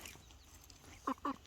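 Free-ranging chickens give two short, soft clucks close by near the end, over a quiet background hum.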